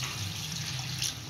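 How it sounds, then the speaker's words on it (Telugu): Water is poured into a pan of frying gobi manchurian sauce, giving a short, steady splashing rush close by. "ఇలా వేగిన తర్వాత కొంచెం వాటర్ అయితే వేస్తున్నాను."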